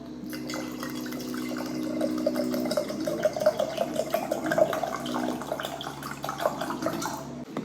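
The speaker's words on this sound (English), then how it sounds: "we're gonna top that with apple cider vinegar" Apple cider vinegar poured into a quart jar half full of honey, a close, steady trickling stream with gurgles and a rising tone as the jar fills, then a short clink near the end.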